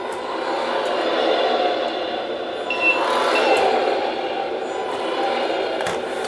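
The throttle engine sound of a Tamiya Arocs 8x4 RC tipper truck: a steady, fairly loud rumbling drone holds for several seconds with a slight swell in the middle and no talking.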